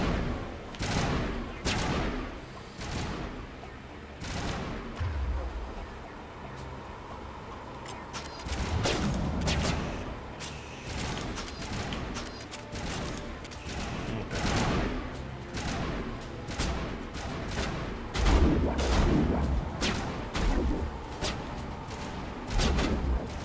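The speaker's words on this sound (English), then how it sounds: "Who the hell else is shooting at me?" Enemies fire at the player in a video game, with repeated bursts of gunshots, sharp cracks and fusillades rattling close and loud across the whole stretch.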